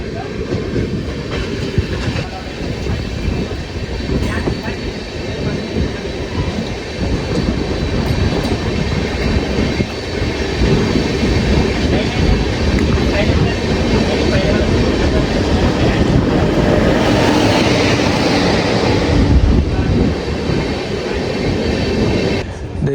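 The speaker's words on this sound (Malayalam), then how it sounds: "രാജ്കോട്ട് നിന്ന് സെക്കന്ദരാബാദിലേക്ക് പോകുന്നൊരു സൂപ്പർ ഫാസ്റ്റ് എക്സ്പ്രസ് ആണ് ഇത്" A superfast express train running from Rajkot to Secunderabad, hauled by a Lallaguda-shed P7 locomotive: steady close rumble with wheel clatter and a constant loud roar throughout, with faint voices mixed into the noise.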